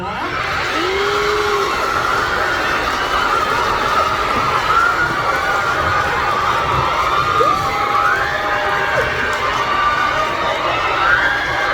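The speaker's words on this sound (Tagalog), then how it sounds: "Tayo ay magpalakpakan at magsigawan." A live event audience in a Philippine venue cheers and shouts steadily, with whoops and yells rising over a dense, continuous crowd roar that fills the whole stretch.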